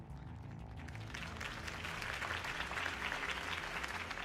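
A large crowd in Batman: The Telltale Series applauds steadily, dense clapping swelling slightly louder after the first second and holding strong, with a faint low murmur underneath.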